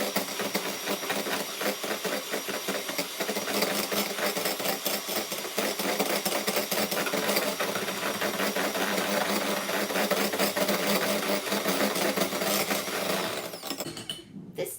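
Whisk beating Swiss roll sponge mixture in a bowl, a steady, continuous rapid rattling and clatter that runs without pause for most of the clip and stops abruptly near the end.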